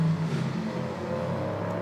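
A prototype race car accelerating at the Hockenheimring, a close, steady engine drone that holds strong without any voices.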